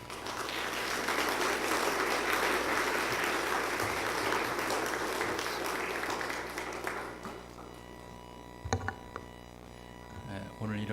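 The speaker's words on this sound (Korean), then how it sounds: "나오실 때 박수로 환영해 주시기 바랍니다" Dense audience applause welcoming a guest pastor at a church choir dedication service, sustained and loud for about seven seconds before fading into room hum and a few scattered clicks and thumps.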